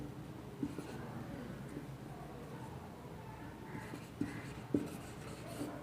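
Pen scratching across paper while a maths solution is handwritten, a soft, continuous close-up scribble with a few light taps and strokes, steady and fairly quiet throughout.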